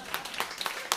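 A short burst of audience clapping at a Moscow rock-and-roll club gig, a handful of scattered hand claps, moderately faint, lasting about a second.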